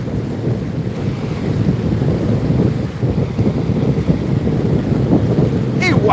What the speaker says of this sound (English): It's gonna be a little windy